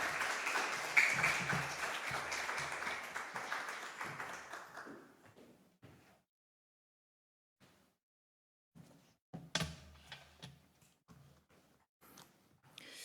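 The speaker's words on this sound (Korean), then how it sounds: "우리 선교사님 나오실 때 박수로 환영하도록 하겠습니다" A church congregation at a Wednesday prayer service claps to welcome a missionary, a dense round of applause that fades out after several seconds, followed by near silence and a few scattered faint sounds.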